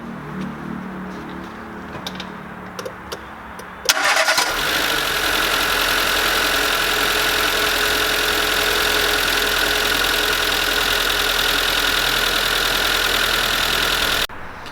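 Renault Clio 2 1.2L engine cranks and fires on its first start after a timing belt job, a sudden catch followed by a steady, loud idle with a faint ticking knock, running until it cuts off near the end.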